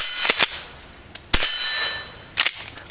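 Standard-velocity Aquila .22 LR rounds fired from a Rossi model 62 pump-action rifle at an outdoor range, giving a few sharp cracks, each followed by a bright metallic ring, with quieter clicks between the louder reports.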